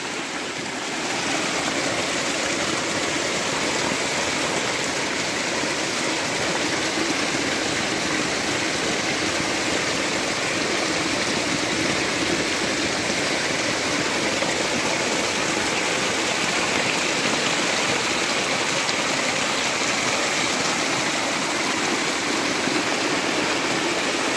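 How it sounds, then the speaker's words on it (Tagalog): A strong natural spring gushes with water in a steady, loud, broadband rush that runs throughout. No one talks over it. "Itong bukal na ito napakalakas."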